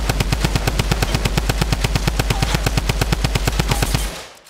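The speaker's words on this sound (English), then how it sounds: "Coming in with the drum gun." A drum gun fires in Fortnite gameplay, a loud unbroken burst of rapid automatic shots at a steady fast rhythm for about four seconds, then cutting off abruptly.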